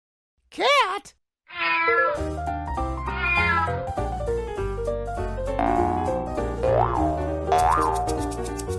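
A cat meows twice in short rising-falling cries, followed by a bouncy boing-like cartoon effect and music that carries on underneath.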